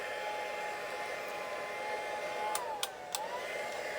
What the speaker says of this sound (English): heat gun, and it's hot. And I'm just going to start heating up the embossing powder.